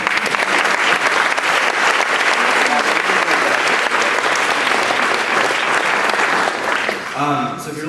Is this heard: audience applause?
yes